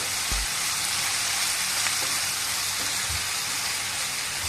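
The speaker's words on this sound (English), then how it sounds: "next we stir all the ingredients together until the vegetables are cooked" Vegetables for a Spanish omelette sizzle steadily in a pan as they are stirred, a dense even hiss with a few soft low knocks from the spoon, close and without talking.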